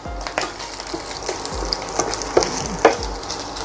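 Bacon and garlic frying in a pan for spaghetti aglio olio, a loud crackling sizzle with sharp spattering pops and occasional utensil scrapes, no one speaking.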